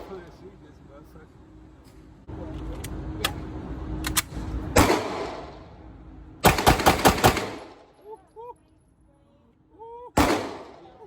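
Gunshots at an outdoor shooting range, several loud cracks in quick bursts with one separate shot near the end, while people talk between the volleys.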